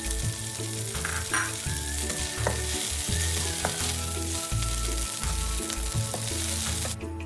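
Ingredients stir-fried in a hot wok for braised chicken feet with mushrooms, a loud continuous sizzle with scraping stir strokes and clanks from the utensil throughout.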